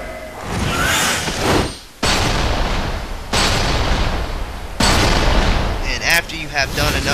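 Sniper rifle shots boom in Resident Evil 5 during a boss fight, with several heavy blasts in sequence separated by brief gaps and dense game noise throughout.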